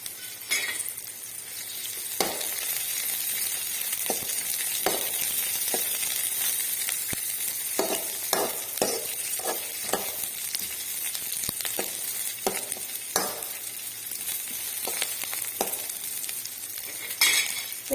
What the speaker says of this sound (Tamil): அதில் பூண்டு வெங்காயம் புளி எல்லாம் வதங்கிடுச்சு